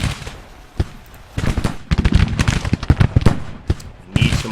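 Civil War battle volleys of musket and cannon fire in a strategy game, dense overlapping shots cracking in rapid irregular bursts, loud and near, with brief lulls between volleys.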